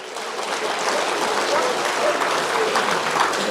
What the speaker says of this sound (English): Let's clap once more for Deputy President.